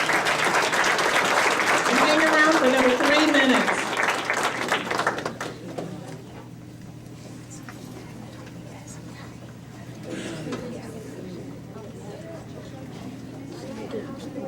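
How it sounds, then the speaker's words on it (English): An audience at a school board meeting applauds award recipients, a loud patter of clapping that fades out after about five seconds, followed by quieter room sounds and someone speaking. "Let's give them all another applause."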